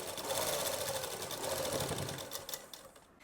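Sewing machine running steadily while stitching palazzo pants, a continuous close whir that slows and stops near the end, with no talk.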